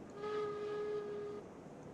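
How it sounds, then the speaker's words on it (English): A steam locomotive whistle in the Railroads Online train game gives one short, weak blast of about a second, fairly faint against a low rumble. "Little weak whistle up for it."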